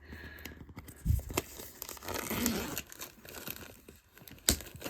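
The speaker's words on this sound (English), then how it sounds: "I'll very carefully slide the scissors along" Scissors snip and slide through crinkly plastic packaging of a robot toy, with scattered tearing and rustling sounds, quiet and close by.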